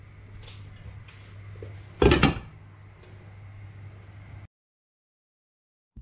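A lid is set down on a cooking pot of boiling carrots and milk for carrot halwa, a single sharp metallic clatter over a low steady stove hum.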